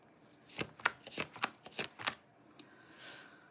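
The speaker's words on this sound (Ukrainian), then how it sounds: "поки я мішаю карти" Several quick riffles of playing cards being shuffled, crisp bursts of flapping one after another, close by, ending with a softer final riffle.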